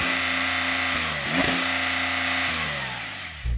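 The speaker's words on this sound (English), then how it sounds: "So I'm going to rev up this Porsche." A Porsche 911 Turbo S engine idles with a steady low rumble, then gets one sharp rev that swells and falls away before it settles back to idle, close and loud, with no talk over it.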